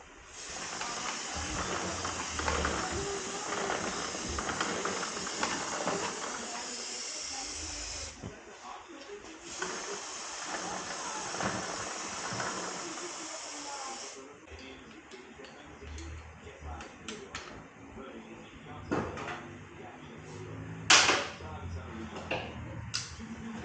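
Cleaner sprayed onto the chain of a Bajaj Dominar motorcycle during a heavy service, heard as long hissing bursts of several seconds each, fairly close, with brief talk and workshop noise between sprays.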